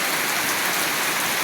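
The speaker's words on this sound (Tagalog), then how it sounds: "Lalo pang malakas ang ulan." Steady, loud downpour of heavy typhoon rain from Basyang, a dense unbroken wash of falling water heard up close with no other sounds.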